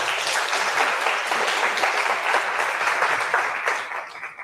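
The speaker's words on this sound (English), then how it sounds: "Everybody give Zukiswa a round of applause." A workshop audience applauds steadily for several seconds, a dense, even patter of many hands clapping that holds at full strength before tapering slightly at the end, with no talking over it.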